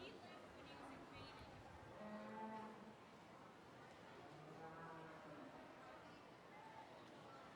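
Cattle lowing at a 2019 4-H beef show ring during a cow-calf class, several drawn-out moos scattered through the clip over a busy crowd murmur and an announcer's voice.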